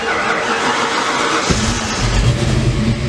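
A heavily modified Mustang engine cranks and catches, then settles into a rough, throbbing idle with a deep low rumble, close and loud, with no one talking.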